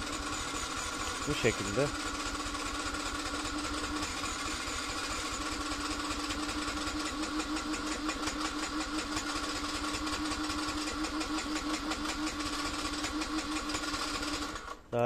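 Faulty engine of a Yamaha NMax 125 scooter idling, a continuous rough, knocking rattle with a steady rhythm throughout, close and loud, with someone briefly speaking over it.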